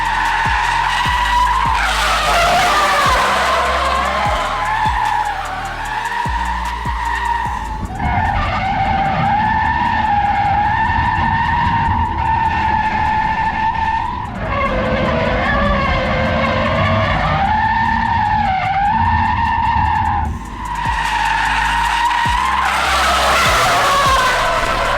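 A Tesla car slides with its front end washing out, tires skidding and squealing loudly in long, wavering howls that rise and fall over a steady engine-less drive hum, with brief gaps between slides.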